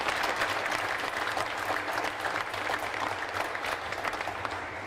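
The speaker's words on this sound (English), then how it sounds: "let's give him a nice warm round of applause" A crowd at the Iowa State Fair opening ceremonies applauds warmly, a full, sustained burst of clapping with slight swells, fairly near and steady throughout.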